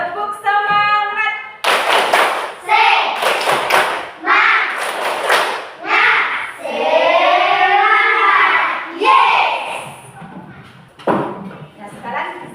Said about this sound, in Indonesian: Sekarang kita tepuk semangat lagi buat kita semua.